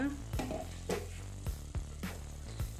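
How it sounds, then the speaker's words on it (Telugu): Masala for an aloo matar curry frying on a low flame in a covered pan, a steady soft sizzle broken by several sharp clinks and scrapes of stirring at roughly even intervals. "లో ఫ్లేమ్లోనే మూత పెట్టుకొని మరి కొంచెం వేయించేసుకోవాలి"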